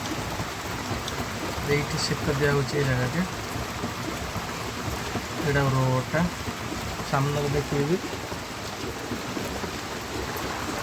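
Steady rain falls outdoors in a short, light shower, forming a constant wash of noise under intermittent talking.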